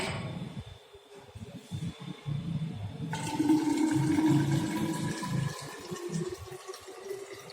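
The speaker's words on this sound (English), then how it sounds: "Up to 500 we have to add water for injection in it." Water for injection poured into a preparation being made up to volume, a steady close liquid gush and splash that swells and continues for several seconds.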